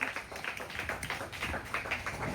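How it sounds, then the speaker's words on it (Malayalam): Several people at a home birthday celebration for a 70-year-old father clap together in a quick, soft, continuous patter, fairly faint and close. "എല്ലാരും ഒന്ന് ക്ലാപ്പ് അടിച്ചേ"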